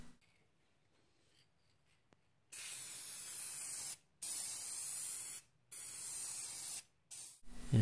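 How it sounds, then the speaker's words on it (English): A spray can applies gray primer to a 1/8-inch steel plate for a door reinforcement, in four loud, hissing bursts separated by short silent gaps after a quiet opening. "I just wanted to spray it with a little bit of gray primer to protect the metal."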